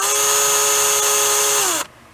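A cheap $20 handheld electric drill runs at steady high speed with a loud, constant whine for nearly two seconds, then switches off and spins down abruptly.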